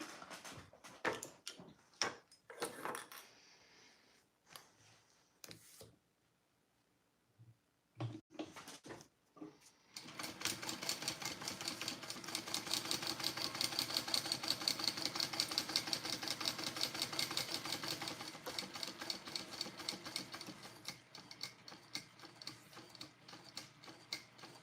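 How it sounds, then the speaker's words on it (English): Sewing machine running steadily around the curved edge of a mini backpack flap, a dense continuous rapid stitching whir for about fifteen seconds, preceded by scattered clicks and handling knocks. "I'm gonna sew around this whole curved edge here"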